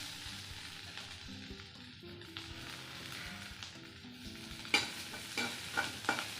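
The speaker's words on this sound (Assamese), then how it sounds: "আলু বিলাহীখিনি দি দিম সেইখিনি অলপ ভাজি লৈছোঁ" Potatoes frying in a pan, with a soft continuous sizzle under close stirring strokes and a few sharper clacks of the spoon against the pan near the end.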